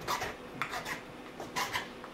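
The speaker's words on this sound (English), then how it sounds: "Then what I do for the rustication next is actually come in with my file and I hit the high spots." A fine file rasps across the high spots of a rusticated briar wood pipe bowl, making about four steady, close, dry scraping strokes with short pauses between them.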